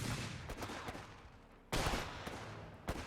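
Distant gunfire in the Company of Heroes 3 video game battlefield: a faint crackle of scattered shots under ambient noise, then a louder burst partway through and one more sharp report near the end.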